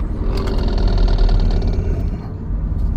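A Toyota's front end rattles while the car brakes, a steady mechanical clatter over a low engine drone, fairly close and loud, with quick light ticks running through it before it eases off near the end.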